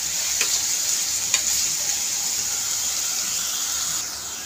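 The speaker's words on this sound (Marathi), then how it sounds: "त्याला मी थोडंसं फ्राय करून घेते" Pumpkin pieces frying in a pan, giving a steady close sizzle and hiss throughout, with a couple of brief stirring clicks near the start.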